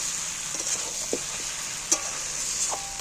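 Jackfruit curry cooked with goat fat sizzles in a pan, a steady frying hiss broken by a few soft spoon scrapes and stirs, close and continuous without any voices.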